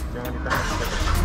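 Toyota Rush GR Sport engine catching and starting from a push-button, a short rising rumble that settles into a steady idle close by, with people talking over it.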